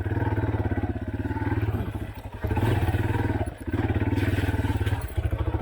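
Off-road motorcycle ridden on a trail at Walker Valley, a loud, close, steady engine drone with brief dips and throttle changes, plus occasional clatter and thumps over rough ground.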